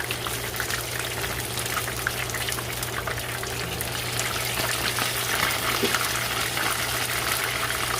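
Whiting fish fillet in hot oil, a loud continuous bubbling sizzle that holds steady as the fillet is flipped, with a low constant hum underneath.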